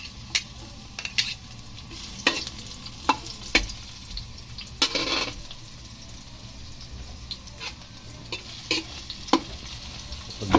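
Garlic frying in a pan while being stirred for a chicken curry: a steady, soft sizzle throughout, broken by repeated sharp scrapes and clinks of the utensil against the pan.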